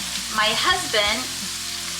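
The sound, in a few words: sausage and hamburger browning in a pan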